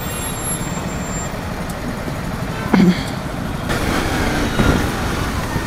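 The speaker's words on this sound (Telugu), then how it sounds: "ఓ ట్రాఫిక్ అయితే మస్తు ఉంది ఇక్కడ." Road traffic passing on a busy city street, heard as a steady low rumble of vehicles with a few brief louder bumps and a swelling pass toward the end.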